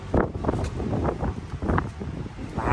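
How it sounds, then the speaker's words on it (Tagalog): Gusty wind buffets the microphone with a rough, rumbling roar that rises and falls over a few seconds. "Mahangin ngayon pare ko."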